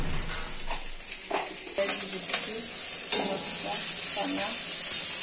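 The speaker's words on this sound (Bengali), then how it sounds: "তো আসলে ভাজনাটা করা হচ্ছে মরিচ পেঁয়াজ দিয়ে, এটা ছানার জন্য, কড়া ভর্তার জন্য।" Chili and onion fry steadily in a pan for a spicy mashed banana dish, with close, continuous sizzling and crackling and a few stirring scrapes.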